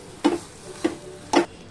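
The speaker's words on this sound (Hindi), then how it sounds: "अब मैं डालूंगी इसमें हरा धनिया, धनिया डालकर अच्छे से मिक्स कर लेंगे धनिया को आलू में।" A spoon scrapes and stirs fried potato stuffing with green coriander in a pan, three separate short strokes spaced apart, close and fairly loud, with no talk.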